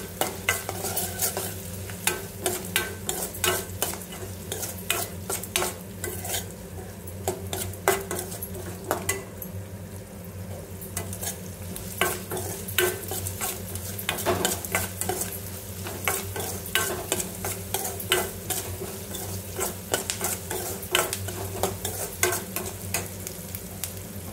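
Ingredients with turmeric and salt fry in a pan for tomato curry, with steady sizzling and a spoon repeatedly scraping and clinking against the metal, close and fairly loud, without any talk.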